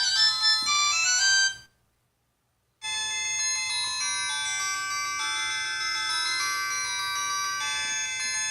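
A G5 sports smartwatch plays a bright, loud electronic ringtone melody in a dense tonal burst, then stops briefly into silence before a second, steadier ringtone starts and holds to the end.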